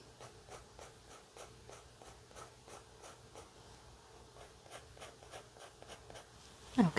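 A pencil scratches across paper in regular, evenly spaced strokes while lips are drawn, quiet and close with no talking, ending with a brief louder handling sound.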